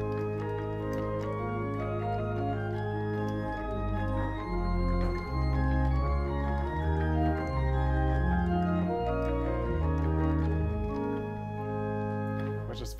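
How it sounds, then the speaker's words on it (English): A pipe organ plays with its 4-foot Gemshorn stop, giving a full, joyful polyphonic passage with moving chords over sustained bass, steady and continuous in a resonant space. "There's a 4-foot Gemshorn."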